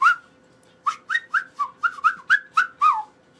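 A person whistles a short tune of about ten quick chirpy notes after an opening note, each bright and close, clear against a quiet background with a faint steady hum.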